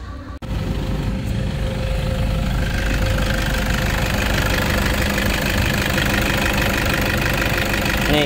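The diesel engine of a 2015 Toyota Kijang Innova automatic idles loudly and close by with a steady, rattling knock that continues unbroken throughout.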